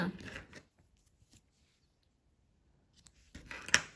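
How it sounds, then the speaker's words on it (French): Scissors snip through crochet yarn in a couple of short, close crisp cuts at the start and end, with near-silence in between. "on coupe le fil"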